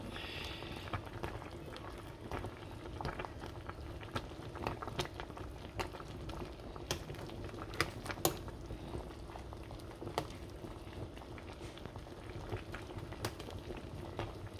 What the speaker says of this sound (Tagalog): Ayan na, guys. Kumukulo na siya.